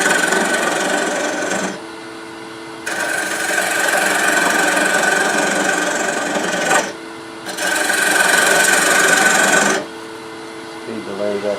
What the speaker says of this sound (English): Speed the lathe up a little bit.